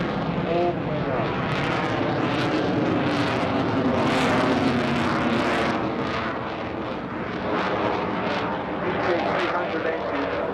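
RAF Typhoon FGR4 fighter jet with EJ200 engines roaring at full power during an air show display at Blackpool, a loud continuous rumbling blast that swells and fades as it passes, with a commentator talking over it.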